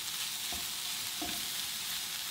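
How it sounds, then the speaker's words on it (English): Jackfruit and onions with a barbecue spice mix sizzle gently in a pan, a soft steady frying hiss with two faint stirring knocks, quiet and close. "I've tossed my spice mix through my jackfruit and onions. and I've stirred it for about another minute or two"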